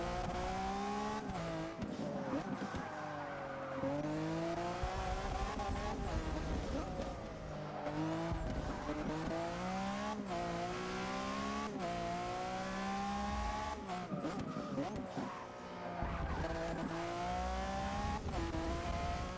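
Race cars in Forza Motorsport 6 chase a Lamborghini at Yas Marina Circuit, engines droning loud and continuous with rising revs and repeated gear-shift sweeps, occasional tire squeal, no talk.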